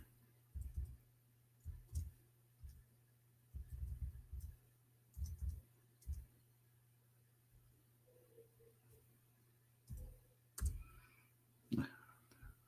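Someone types on a computer keyboard in quiet, irregular clusters of soft, close clicks with pauses between them, under a faint steady hum.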